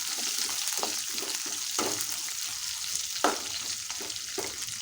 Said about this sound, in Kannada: ಕರಿಬೇವು, ಸ್ವಲ್ಪ ಈರುಳ್ಳಿ ಹಾಕ್ಕೊಳ್ತೀನಿ.